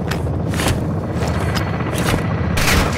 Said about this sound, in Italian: La mitragliatrice ci spara dalla torre.